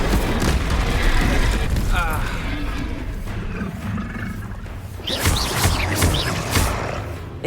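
Incendio fire spells cast in Hogwarts Legacy produce repeated whooshing, roaring blasts with mechanical creaks and booms from the game's combat, while a voice speaks over the action.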